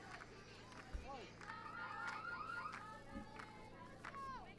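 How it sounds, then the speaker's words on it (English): A car alarm sounds in the distance at a college softball game, its faint warbling, rising tones running under an announcer's speech and low crowd noise. "Car alarm just went off for a moment."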